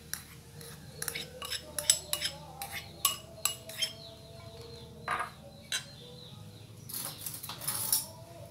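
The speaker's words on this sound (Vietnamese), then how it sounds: "Bây giờ mình sẽ trộn cái phần khoai lang vô đây luôn ha." A spoon mixes mashed sweet potato into a soft dough in a bowl, with quiet, irregular clinks and scrapes of utensil against the bowl, close by.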